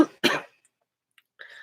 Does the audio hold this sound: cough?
yes